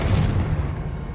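A Confringo blasting-spell explosion in Hogwarts Legacy gives a single loud, close, booming burst with a heavy low rumble that holds and slowly fades over about a second, with no voices.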